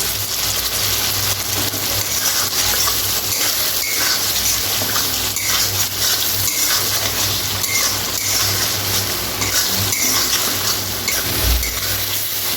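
Spice paste and chopped tomato fry in a pan, a loud, dense, unbroken hiss like rushing water that carries on evenly near the listener, with a brief low thump near the end and no talking.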